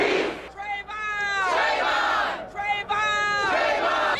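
Crowd at an Atlanta rally for Trayvon Martin after the George Zimmerman verdict, loud massed chanting and shouting in repeated rising waves, close and dense.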